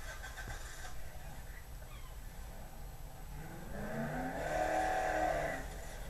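A pickup truck engine in the video game Dead Island revs steadily, rising and swelling in pitch and loudness toward the end before easing off, with no talking over it.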